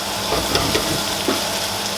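Steady sizzling hiss of squirrel meat frying in a pan, continuous and close, with a few soft pops and spatters.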